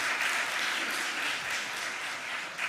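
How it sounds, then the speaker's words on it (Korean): A church congregation at a pastor's ordination service at Eundeurim Church gives warm, continuous applause, many hands clapping together at an even level for a few seconds, with a small swell at the end. "우리 박수 한번 모시겠습니다."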